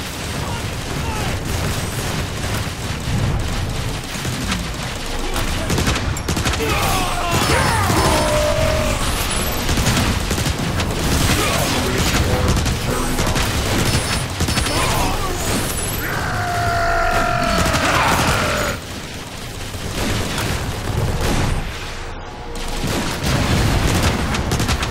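Rocket fire and explosions from a servo enemy in the game Transformers: War for Cybertron, a dense, continuous barrage of blasts and crashing impacts with mechanical whirs and sweeping streaks, loud throughout and briefly dipping near the end.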